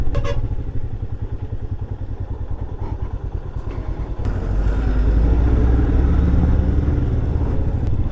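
A truck on a narrow mountain road, a loud rumbling engine with rhythmic clatter that grows heavier and closer as it passes.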